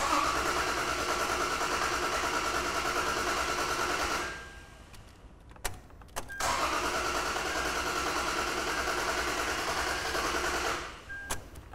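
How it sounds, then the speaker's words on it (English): A Toyota 4.0L engine cranks over with the fuel pump fuse pulled: two long, even starter-motor cranking runs, loud and close, separated by a pause with a few sharp clicks. "I did pull that already, so we can get a nice even cranking period."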